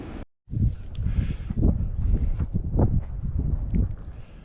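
Heavy wind buffeting a microphone in low rumbling gusts, loud and close, after a brief dropout at the start.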